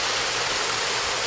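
Water rushes steadily into the intake grates of a residential lazy river pump, a loud, dense, unbroken hiss and roar filling the whole moment with no voices.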